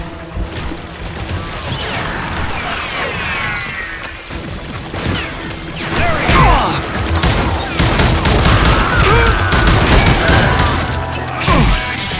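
Rapid, loud bursts of gunfire from the Western shooter game Call of Juarez Gunslinger crack almost continuously, mixed with whizzing ricochets, clanking mechanisms and busy battle noise throughout.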